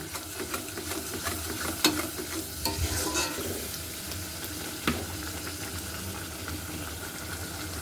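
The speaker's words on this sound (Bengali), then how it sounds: "ভালো মতো একটু পাঁচ মিনিট কষিয়ে নেব যতক্ষণ না মশলাগুলো সব কাঁচা গন্ধ চলে যাচ্ছে" Spice paste for a chicken bharta is stir-fried in a pan, with a constant sizzle under repeated scraping strokes of a spoon, a few louder knocks standing out.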